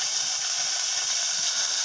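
Onion sizzling in a hot pan for a duck egg curry, a steady, loud, bright hiss that runs unbroken from start to finish with no talking.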